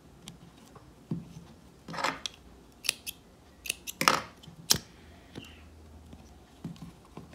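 Scissors snip thread on a craft made from recycled materials, several sharp separate cuts and clicks spaced irregularly against a quiet background.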